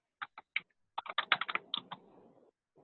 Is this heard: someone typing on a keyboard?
yes